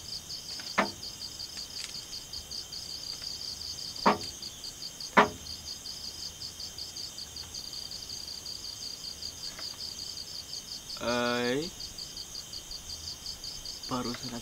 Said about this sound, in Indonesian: cuma terdengar suara-suara jangkrik nih